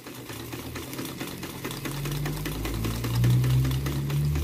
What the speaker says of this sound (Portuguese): Vamos virar o nosso trabalho e vamos fazer uma costura aqui também.